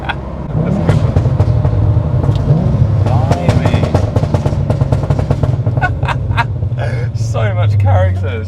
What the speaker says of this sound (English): I can really hear the turbo as well